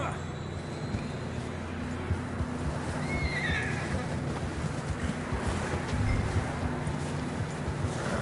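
Horses whinny during a ride in a video game. A loud neigh rises over steady hoofbeats and a rushing background of water or wind, and voices talk underneath.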